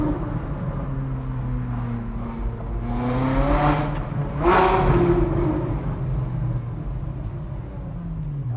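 Ferrari 458 Widebody with an Armytrix exhaust revs through a tunnel, its engine note rising in pitch to a loud echoing peak around the middle before easing back into a steady drone.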